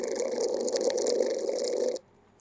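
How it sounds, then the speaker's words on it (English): Bench fan's vibration picked up by a vibration sensor and played back through a Bluetooth speaker: a steady, close buzzing drone with a tonal hum, running evenly for about two seconds before cutting off abruptly into near silence. "That's the sound of this fan over here that I've got taking"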